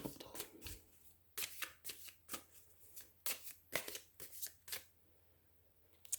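Tarot cards being shuffled by hand, a run of crisp riffling bursts and soft slaps in quick irregular succession, close and fairly quiet, with faint low hum beneath.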